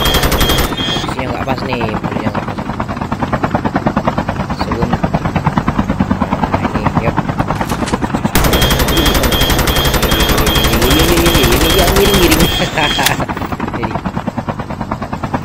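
Rapid automatic gunfire in the mobile shooter Call of Duty: Mobile, loud and sustained bursts with a heavy whirring drone beneath, denser in the later stretch, while a player talks over it.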